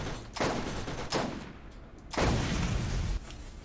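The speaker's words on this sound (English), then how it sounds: "Explosions." Explosions and bursts of gunfire in the video game Borderlands, heavy blasts and rapid shots arriving in several loud surges without talk.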